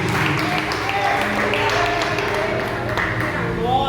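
A church congregation applauds during an evangelical service, with dense, steady clapping that fills the whole stretch under sustained music and voices.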